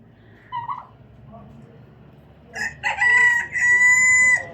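A rooster kept with chickens and a turkey crows loudly and close, a long strained call in the second half, after some soft scattered clucks and quiet stretches earlier.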